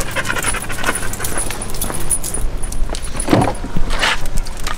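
Dogs pant rapidly close by before a trip, with jingling keys, shuffling movement and scattered clinks around them.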